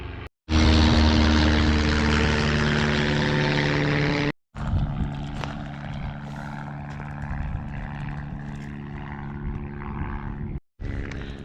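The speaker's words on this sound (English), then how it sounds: "Let's let this plane go by." An airplane passes overhead as a loud, sustained droning roar with strong tonal engine hum, briefly cut off twice, then lingering more faintly in the background.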